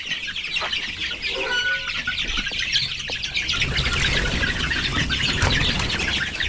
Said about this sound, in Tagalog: Grabe ilap ng mga manok na ito